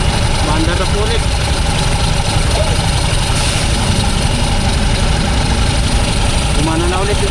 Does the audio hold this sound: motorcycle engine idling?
yes